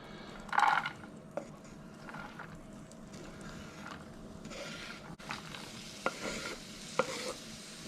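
Shredded cabbage sweating in a pan for homemade Chiko Rolls, a soft, low sizzle with a brief utensil rattle early on and a few sharp clicks later, quiet and close, no talking.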